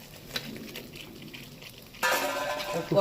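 Fried pointed gourd pieces tipped into a spiced yogurt curry in a pan: faint clinks and quiet stirring, then a sudden loud burst of sizzling that carries on to the end.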